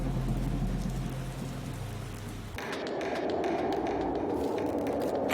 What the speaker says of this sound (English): the rain has kept the Air Force's powerful Mi-17 on standby